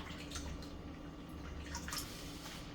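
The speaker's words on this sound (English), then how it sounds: "I'm gonna take this water out, and I'm gonna put some fresh water in" Water sloshing, draining and splashing as chitterlings are rinsed in a kitchen, a continuous wet, churning wash with scattered drips and splashes, fairly close and with no voices.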